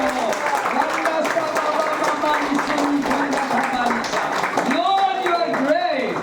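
A church congregation applauds loudly and steadily throughout, with singing or worship music and voices continuing over the clapping.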